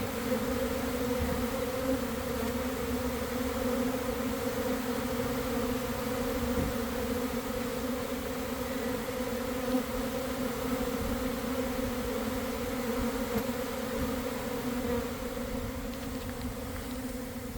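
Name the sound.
honeybees fanning and buzzing at hive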